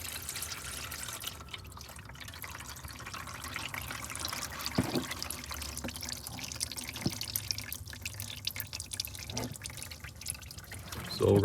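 Used engine oil drains from a 2.5L Ford Maverick hybrid in a steady, close trickle with occasional drips, continuous and moderately faint throughout.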